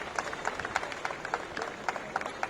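A crowd at the opening ceremony of an all-India fire service sports competition gives a speaker a welcoming round of applause, a moderate, fairly distant patter of scattered claps with a few sharper individual hits.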